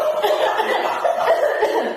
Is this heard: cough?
yes